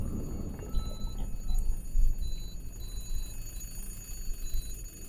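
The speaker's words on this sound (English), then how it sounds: "I can hear the phone ring." Telephone ringing inside the puzzle game The Room 3, a steady bell-like ring over a low ambient game drone, moderately loud and continuous with no talk.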